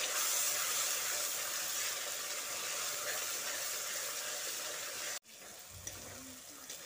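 A paste of two ground medium onions fries in a pan with a continuous close sizzle that cuts off suddenly and returns softer.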